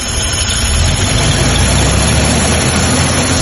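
An old gasoline 3F 4.0 engine in an abandoned barn-find Toyota Land Cruiser 70 Series runs at a loud, steady idle with a constant low rumble and vibration throughout, and no voices.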